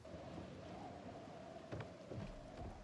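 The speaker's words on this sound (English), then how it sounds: "It's raining." Rain falls in the video game Project Zomboid as a soft, even hiss, quiet and continuous, with a couple of faint low rumbles partway through.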